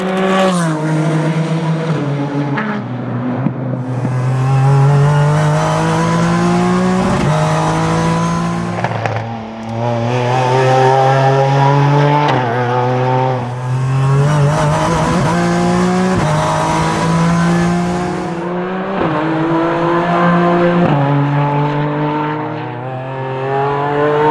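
A small Midget sports car drives hard around a track, its engine loud and close, climbing through repeated rising revs broken by sharp gear changes and brief lifts, with no talking.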